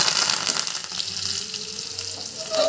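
A tadka of cumin, chopped green chili and curry leaves sizzles in hot oil, a close, dense, steady crackling hiss that fills the whole moment with no talk.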